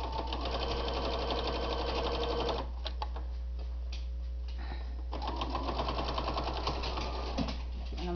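A sewing machine runs steadily stitching through the thick, multi-layered folded seams of a fabric bowl cozy, with a brief slowdown partway through before the motor picks up again, close and continuous.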